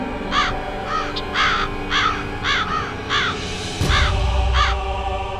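A crow caws loudly and close by, in a steady series of about eight harsh calls evenly spaced, with a brief low thump near the end.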